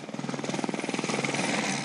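A rescue helicopter flies night missions over the sea and mountains around Papeete, its rotor beating in a fast, steady pulse close by and loud throughout, with no voices.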